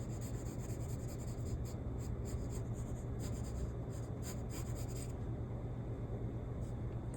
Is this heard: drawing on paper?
yes